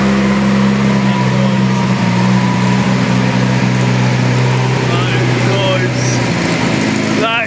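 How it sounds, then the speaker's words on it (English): An AC Cobra replica with a carburetted Ford 2.0-litre Pinto engine runs on a dyno, a loud, sustained engine drone holding near steady before it drops away at the end, with a short voice near the close. "Carburetted 2-litre Pinto. What a sound!"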